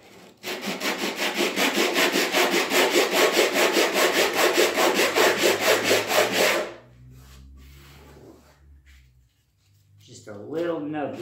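A flat wooden block sanding a wooden dresser surface, a fast steady rasping rhythm of short strokes, loud and close for several seconds, then it stops and someone speaks.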